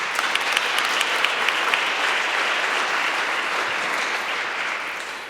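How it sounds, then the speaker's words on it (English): An audience at the European Youth Charlemagne Prize ceremony in Aachen applauds steadily, a dense wash of clapping that stays strong before easing off at the end. "A round of applause, please."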